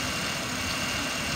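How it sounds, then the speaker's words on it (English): A 2005 Ford Taurus SE with a 3.0 liter V6 idles steadily, a smooth, even low rumble heard close up with no voices. "It's idling pretty smooth."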